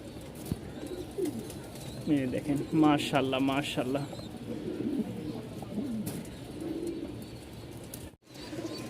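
A male Jacobin pigeon coos at a pigeon market, soft repeated throaty calls in the background while someone talks loudly close by.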